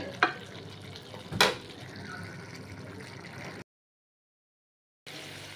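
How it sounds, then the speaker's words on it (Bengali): Chickpeas and potatoes frying in a pan, a soft sizzle under two sharp scraping stirs near the start, then a gap of silence before the frying hiss returns. "ভাজা ভাজা করে নিব"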